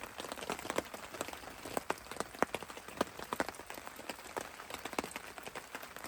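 Heavy rain pattering steadily on a tent in a Dorset forest, a dense hiss of drops with frequent sharper close taps, continuous and without speech.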